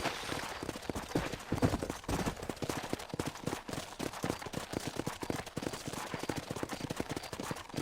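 Horse hooves clip-clop steadily in the Red Dead Redemption video game, a fast, dense galloping rhythm running the whole time at close range, with sharp cracks mixed in that resemble distant gunfire.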